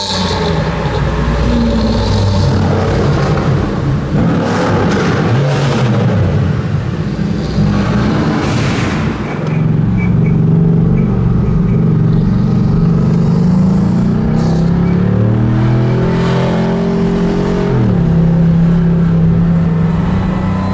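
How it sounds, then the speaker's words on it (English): Mercedes-Benz 300 SL classic sports car driven hard on the Mille Miglia road rally, its engine roaring loud and close throughout with rising and falling revs through gear changes, heard from inside the car. "Blasting and pushing the 300 SL."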